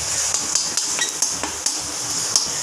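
A spoon scraping and clinking in a pan while onion is stirred with salt and asafoetida, a steady run of sharp metallic taps close by.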